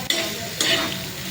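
Tomatoes hit a pan of roasted onion and fry with a loud, close sizzle, marked by two sharp spattering bursts.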